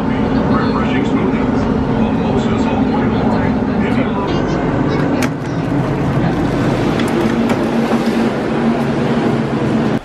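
Constant loud rumble and rolling hum of a monorail tram moving along its track through a tunnel, with a brief dip midway and faint talk underneath.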